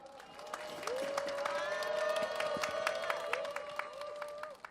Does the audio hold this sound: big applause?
yes